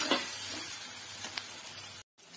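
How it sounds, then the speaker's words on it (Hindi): Green chillies fry in a pan with coriander powder, salt and turmeric, giving a steady close sizzle with a few soft stirring scrapes, then a brief dropout before the frying resumes. "तो मिर्च हमारी भुन गई है, इसी तरह से चाहिए।"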